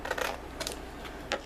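Scissors snip through paper card along score marks for a heart-shaped gift card holder, a few short crisp cuts spaced apart, close and fairly quiet.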